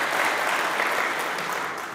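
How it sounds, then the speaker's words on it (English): Warm audience applause at a motivational talk, a thick continuous clatter of clapping hands that holds steady through the brief moment. "let's give her a wonderful round of applause"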